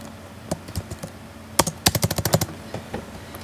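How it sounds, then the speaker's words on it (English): Keys clack on a computer keyboard, a few scattered taps followed by a quick burst of typing, crisp and close in a quiet room. "and then I'm going to type hello"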